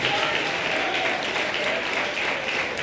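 A church congregation at an evangelical service claps together in a thick, continuous roar of applause that holds steady throughout, with a voice faintly audible beneath it.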